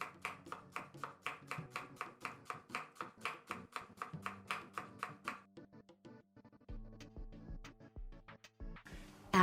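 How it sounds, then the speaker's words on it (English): A knife cuts peeled onions into long slices on a cutting board while making Turkish kofta, with steady, close, rapid strokes for about six seconds, then a few quieter, sparser knocks and handling sounds; no one speaks. "Peel the onions and cut them into long slices."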